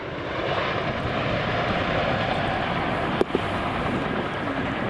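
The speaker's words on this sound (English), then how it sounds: "That's the aircraft now about to pull up to 30-degree wingover." Loud, continuous engine roar of an RAF Chinook helicopter flying a manoeuvre at an airshow, a steady broadband drone with no talk.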